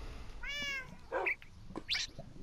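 A pet cat meows clearly and close by, one long tonal meow followed by a couple of shorter chirping calls, with quiet room noise between and no speech.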